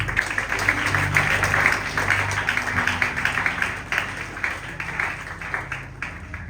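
A congregation applauds at an evangelistic gathering, a dense, steady wash of many hands clapping that fills the room and gradually thins toward the end.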